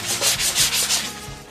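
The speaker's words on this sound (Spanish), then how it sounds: "tengo la chamarra que hace ruido" A jacket rustles and rubs in steady, close scraping swishes during a dubbing session, with no speech.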